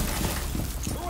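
A wall breach in Rainbow Six Siege lands as a brief, dense burst of shattering debris and crumbling noise, loud and close, with a voice mixed in.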